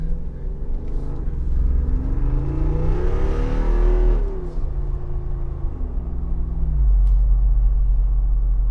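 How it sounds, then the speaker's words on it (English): A Jeep Wrangler 392 V8 drives with a loud, steady low engine rumble that swells and falls as it revs, with the exhaust note rising mid-way and settling again, no talking. "The exhaust on this does get a little bit crackly, if crackly is a word."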